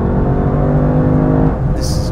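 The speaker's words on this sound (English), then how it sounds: "V8 sort of screaming wail" Lexus LC500 V8 engine exhaust revving: a loud, sustained wailing engine note with strong harmonics holds for about a second and a half, then drops away into lower rumble.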